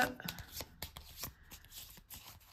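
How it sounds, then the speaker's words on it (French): A deck of patrol cards in the solo board game Maquis is shuffled by hand, a quiet run of quick riffling card flicks close to the microphone. "On remélange le deck patrouille"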